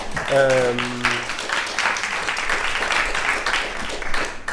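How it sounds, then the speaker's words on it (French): Applause from a live audience at a French talk event, steady clapping that continues throughout while a voice speaks briefly over it near the start. "Applaudissements, s'il vous plaît."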